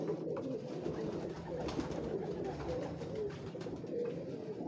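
Pigeons, including a prized breed kept on a Lahore rooftop, coo in a low continuous murmur of overlapping calls, several birds close by and moderately quiet.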